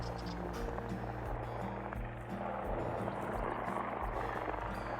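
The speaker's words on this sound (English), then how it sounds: "This helicopter looks like it's with the police." A police helicopter hovers overhead in open country, its rotor producing a loud, continuous throbbing drone close by, steady throughout with no voices.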